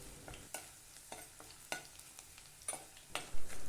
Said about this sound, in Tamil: இந்த கடுகு கருவேப்பிலை போட்டு தாளிக்கும் போதே இந்த பூண்டையும் சேர்க்கும்போது